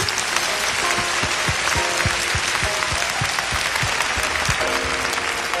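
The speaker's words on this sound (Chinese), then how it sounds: "导演有掌声吗？" Concert audience applauding in a large hall, a dense, sustained wash of clapping that holds steady throughout.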